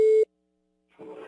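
A single steady telephone line tone sounds clearly for about a quarter second at the start of a prank call, then cuts to silence before faint background noise returns.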